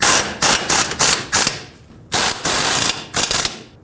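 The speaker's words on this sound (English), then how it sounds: "Now use the 15mm socket that you used to remove them and snug them up." A ratchet with a 15mm socket snugs up the front lower control arm bolts on a 2015-2020 GMC Yukon, giving loud bursts of rapid clicking in short runs separated by brief pauses, close by with no talk.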